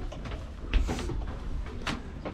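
A sliding door on a Supermarine Swordfish 36 boat runs in its track, giving a few short scraping rumbles close by, with no talking over them.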